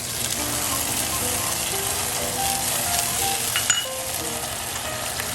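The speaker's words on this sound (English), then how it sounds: "We're gonna deglaze our pot here with our" A braising pot for short ribs deglazed with red wine vinegar, a steady close sizzle and hiss with faint scraping, and a brief sharp spike partway through.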